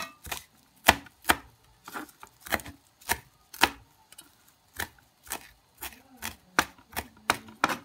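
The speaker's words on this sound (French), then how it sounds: "On va découper le persil." Fresh parsley chopped with a knife on a board, crisp sharp knocks in irregular bursts, close and fairly quiet, with brief pauses between runs and no talking.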